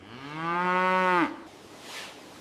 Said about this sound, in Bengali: এখানে রয়েছে আমাদের হলস্টিন ফ্রিজিয়ান গরু, গাভী ও বাছুর।